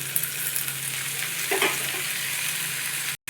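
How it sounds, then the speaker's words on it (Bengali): Pumpkin, potato, tomato and sprouted chickpeas frying in a pan: a constant close sizzle with a brief scrape of stirring midway, no voices, ending abruptly. "মিষ্টি কুমড়ো আলু ছোলা আমার অনেকটাই কষানো হয়ে গেছে"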